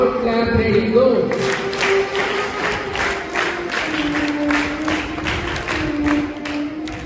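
Students at a school investiture ceremony give a rhythmic scout clap, a run of sharp, evenly spaced group claps following a brief spoken cue.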